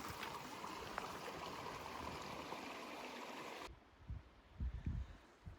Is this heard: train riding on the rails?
no